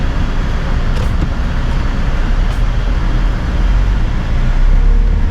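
A manual car driven along a road, heard from inside as a steady, close rumble of engine and tyre noise with broad road roar and no clear shifts or talk.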